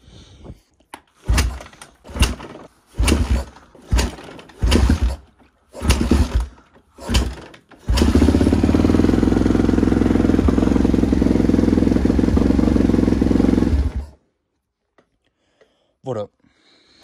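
A Kawasaki 450 KXF dirt bike is kicked over several times with rhythmic thumps, then fires and runs at a loud steady idle for about six seconds before cutting off, close to the microphone.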